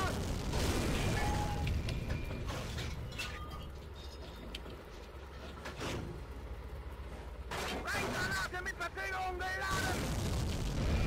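A tank main gun firing in the WWII tank game Steel Fury: White Tiger, with heavy booming shots and rumbling bursts over a constant engine drone and scattered battlefield noise, and a voice speaking briefly.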